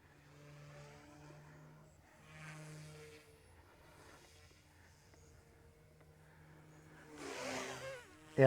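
A small RC helicopter engine whines steadily at a distance, its pitch shifting as it drifts, with a louder rush and a sharp burst near the end.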